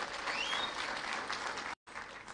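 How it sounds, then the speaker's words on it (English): Applause for the CEO of Globalec at a live public event: a steady, dense clapping from an audience that fills the whole stretch, broken only by a brief dropout near the end. "Another hearty clap for the CEO Globalec."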